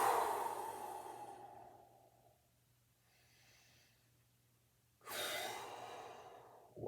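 During a standing stretch exercise, a person takes slow, deep breaths, close and quiet: a long exhale that fades over about two seconds, then near-silence, then another strong breath that tails off.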